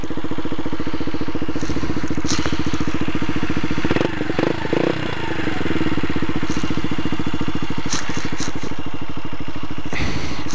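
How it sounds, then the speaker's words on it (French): An Orkal NK01 motorcycle in stock, original condition runs close by, its engine holding a loud, steady, throbbing idle that wavers briefly midway before settling back into its even rhythm. "c'est donc sur ce magnifique bruit de cette magnifique moto que je vous laisse"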